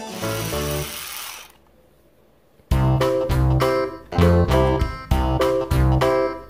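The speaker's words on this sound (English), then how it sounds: "Power drill. You gotta have a battery to make these work." A battery-powered toy power drill whirs loudly, then falls silent, then whirs again in short repeated bursts with a buzzy motor tone.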